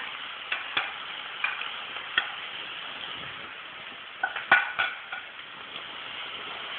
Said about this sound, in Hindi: ये प्याज जो हमने बारीक काटा है, 2 प्याज है ये, इसको बारीक काट लिया हमने, इसको डालेंगे।